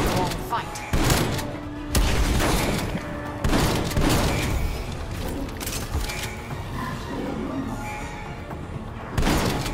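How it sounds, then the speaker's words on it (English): A stun grenade detonates in Call of Duty: Black Ops Cold War Zombies on the Die Maschine map, loud booms and bursts of in-game gunfire repeating over nearly ten seconds amid a dense, noisy battle mix. "Stun grenade out."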